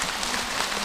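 An audience at a Buddhist monk's dharma talk applauds in a dense, steady wash of clapping that fills a brief moment at an even level.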